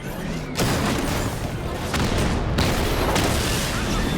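Heavy 60mm cannon blasts in a video game boom in a dense, continuous barrage, loud and rumbling, with repeated sharp impacts layered over a roaring din.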